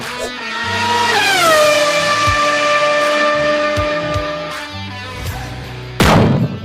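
A Ferrari sports car engine in Maranello roars as revs climb and then settle into a sustained, strongly tonal howl, with a sharp burst of noise near the end.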